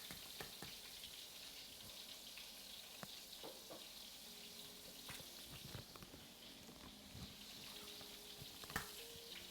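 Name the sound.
bacon sizzling and popping in a frying pan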